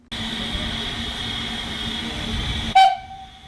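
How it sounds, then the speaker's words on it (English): A steam locomotive whistle holds a long, steady shrill note, then cuts to a brief, sharper blast at the end. No one speaks. "So my ideal James's whistle sounds a little bit like this."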